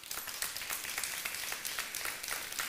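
A church congregation applauds in sustained, dense clapping that fills the space, steady with small swells and no voices.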